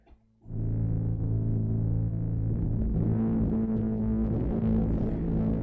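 A deep, rumbling Eurorack synth drone, heavily distorted, kicks in after a brief quiet moment and holds steady and loud with a throbbing low end.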